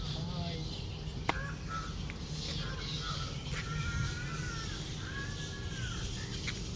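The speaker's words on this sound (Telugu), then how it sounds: "ఇక్కడ పిట్టలు కూడా చాలా ఎక్కువ అరుస్తున్నాయి" Crows cawing loudly at Mudasarlova reservoir in Vizag, with harsh, repeated calls from several birds overlapping one another against a steady outdoor background hum.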